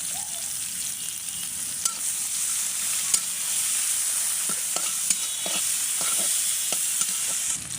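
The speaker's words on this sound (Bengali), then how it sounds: "মরিচ পেঁয়াজ ভাজা হয়ে গেছে" Garlic, onion and green chilies frying in soybean oil make a steady, close sizzle, with a few sharp clicks from stirring and no talk.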